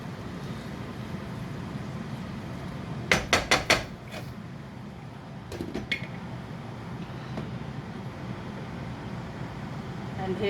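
A baingan (eggplant) dish gets mixed in a pan: a quick run of four sharp utensil knocks, then a few softer scrapes and taps over a low steady background hum.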